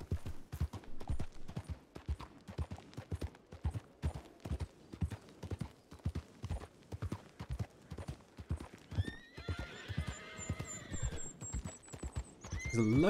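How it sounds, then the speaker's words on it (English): Wild horses in the video game Red Dead Redemption 2 clop steadily through a forest, hoofbeats close and rhythmic throughout, then several loud neighs and whinnies break out near the end. "There's a load of wild horses."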